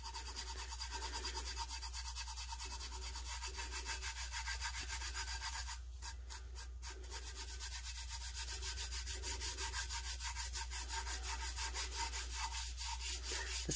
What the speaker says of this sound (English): I am going to burnish it again and see if we get a different result